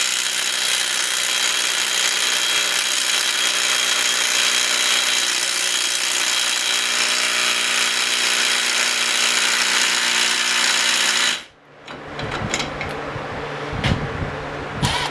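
A Milwaukee cordless impact wrench runs on its low torque setting, making a continuous rattling buzz for about eleven seconds before it cuts off abruptly, followed by a few scattered knocks and clatters.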